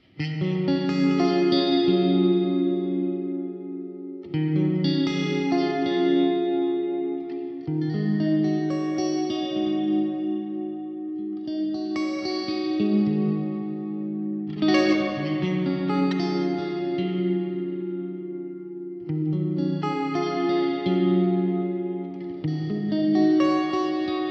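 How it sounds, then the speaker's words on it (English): Electric guitar chords through a Fender Mustang Micro's modulated large reverb strum repeatedly in slow intervals, washed in a wide, shimmering reverb that lingers between strums, with no talking. "We've got a modulated large reverb on green."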